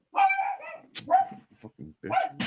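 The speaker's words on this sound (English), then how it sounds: "I hear a dog." A dog barks a few times close by, sharp bursts mixed in among people talking, fairly loud against the speech.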